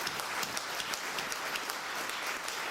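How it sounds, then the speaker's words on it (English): An audience applauds for a speaker at a talk, giving a dense, steady round of clapping with a few sharper individual claps standing out throughout. "let's give another round of applause for Mr. Daymon John."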